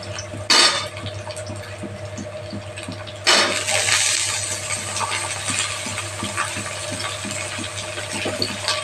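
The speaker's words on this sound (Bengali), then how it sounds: "এখন এর মধ্যে আমি এক এক করে সবজিগুলো দিয়ে দিচ্ছি। সবার প্রথমে দিচ্ছি আলু" Potatoes tipped into a pan of frying onions for a Bengali pumpkin and eggplant ghonto: two sharp splashy bursts as the pieces land, then a steady, fuller sizzle that continues with no talking.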